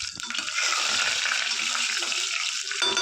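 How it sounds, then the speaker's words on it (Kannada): Curry leaves, half an onion, mustard seeds and cumin fry in about three tablespoons of hot oil, a steady, close sizzle with crackling spatter, the pan hissing loudly and evenly throughout. "ಈರುಳ್ಳಿ ಚೆನ್ನಾಗಿ ಫ್ರೈ ಆಗಿದೆ"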